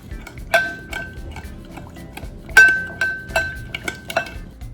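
A spoon stirs wild rice in a metal pot, with a few sharp clinks and scrapes against the rim, two ringing metallic taps standing out among softer knocks, close and with no talk.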